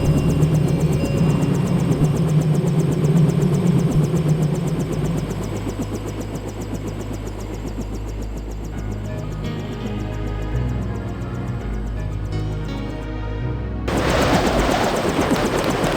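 A helicopter in the Deus Ex video game produces a loud, steady engine and rotor drone that keeps going without a break and shifts in tone near the end.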